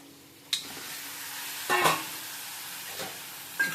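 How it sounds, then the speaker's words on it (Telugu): Fish dropped into hot oil seasoned with chili powder, giving a few short sizzling bursts over a steady frying hiss, near and fairly loud, with no talk. "ఇప్పుడు చేపలు వేసేస్తాము."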